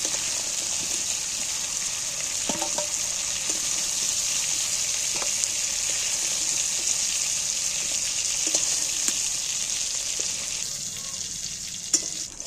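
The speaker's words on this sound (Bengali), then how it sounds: "দু থেকে তিন মিনিট ভাজলেই চিংড়ি মাছ ভাজা হয়ে যাবে" Prawns fry in a pan of oil while jackfruit curry is prepared, giving a steady, close, dense sizzling hiss throughout with a few faint clicks of utensils and no talking.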